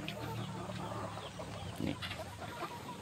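Laying hens cluck softly against a constant background hum, with a few scattered calls and rustles.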